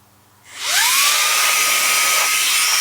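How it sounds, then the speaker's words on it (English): A HoTo electric air duster blower starts up after a brief quiet moment, then runs as a loud, steady, high-pitched whooshing hiss with a rising whine, close and alone. "the reverse of that is, of course, we have a sort of blower device"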